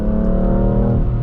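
A 2023 BMW M2 with a manual gearbox accelerates hard in a brief rip, its engine note rising in a dense, loud, close harmonic drone, with no talking.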